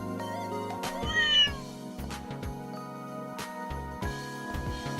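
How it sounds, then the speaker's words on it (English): A cat meows in the video game Trails in the Sky, a short rising-and-falling cry heard clearly over steady game music with chimes and tones. "That's a cat."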